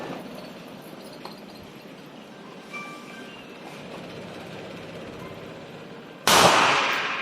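A CZ 75 P-01 all-steel pistol fired at a target on a shooting range, one sharp, loud report near the end after several quiet seconds.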